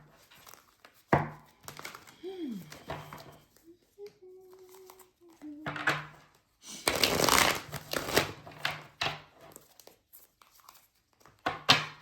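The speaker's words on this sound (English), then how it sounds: "I'm going to pull a few tarot cards and let's see what comes out." Tarot cards are shuffled and pulled in quick crisp bursts of riffling and sliding, close and fairly loud, separated by short pauses, with a faint voice humming or murmuring in between.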